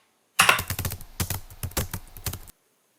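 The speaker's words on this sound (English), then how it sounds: "Or not the music, the typewriter sounds." A typewriter sound effect plays as a rapid, irregular run of crisp key strikes for about two seconds, close and clear against silence, for an animated text effect.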